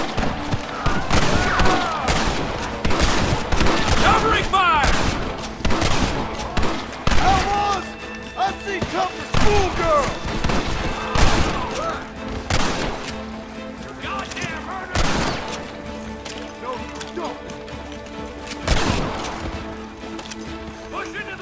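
A shootout in the video game Red Dead Redemption fills the scene with dense, rapid gunfire. Sharp cracks overlap in fast volleys while voices shout over the shooting.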